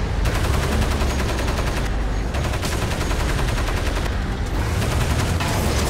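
Dense, continuous rapid gunfire from the video game Crysis Remastered, loud bursts of machine-gun fire layered with crackling shots and brief gaps, with no talking.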